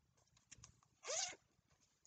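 A zipper pulled on a crocheted notions pouch, one short, bright rasp up close in a quiet room, with faint handling rustles before and after.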